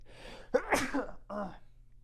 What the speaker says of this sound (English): I knew that sneeze was coming